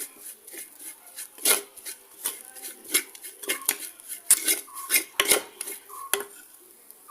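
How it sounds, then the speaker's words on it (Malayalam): A spoon stirs fish curry masala for a Kerala-style tuna curry with kudampuli in a pan, producing a series of sharp metallic scrapes and clinks in an irregular rhythm, close and loud, with no talking. "ഇതിൻ്റെ പച്ചമണം മാറുന്നത് വരെ നന്നായിട്ട് ഇളക്കി കൊടുക്കുക."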